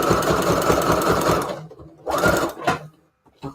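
A sewing machine stitches along the raw edge of fabric in a rapid, steady mechanical whir of two bursts, then a short third one with a clunk at the end, close by with no talk.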